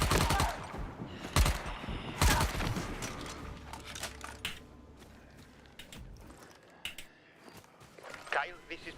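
Gunfire in the zombie parkour game Dying Light: The Beast, a few sharp shots spaced across the clip among softer game effects and footsteps.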